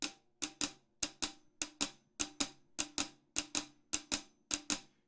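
A drum kit plays a blues double shuffle, both hands striking the same swung pattern with accents on 2 and 4: crisp paired hits repeat evenly, close and loud, with no voices.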